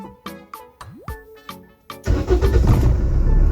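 A car engine cranks with a repeating starter whir for about two seconds, then catches and settles into a loud, steady idle close by, with the key turned after the engine had been shut off during a check-engine fault repair.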